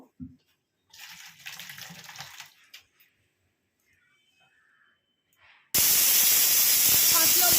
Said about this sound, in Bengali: সিটি পড়ছে, 5 নম্বর সিটিটা হয়ে গেলে গ্যাসটা নিভিয়ে দেবো।